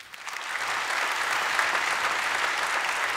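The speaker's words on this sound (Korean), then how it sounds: "다시 한번 박수 부탁드립니다" Audience at a panel discussion breaks into applause that swells within the first half second and then holds as a steady, dense clapping wash.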